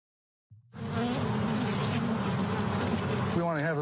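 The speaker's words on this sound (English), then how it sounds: "We want to have as many bees as we can to make honey." Honey bees swarm and buzz on a honey farm in Linden, North Carolina, a dense, loud, steady drone that starts abruptly and fills the air, with a brief voice near the end.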